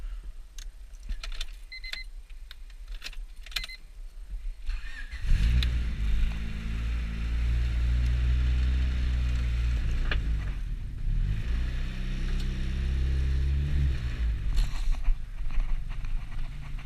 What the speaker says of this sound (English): We're gonna start it so we can warm it up